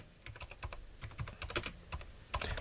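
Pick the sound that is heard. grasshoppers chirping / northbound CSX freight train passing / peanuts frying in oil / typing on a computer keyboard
typing on a computer keyboard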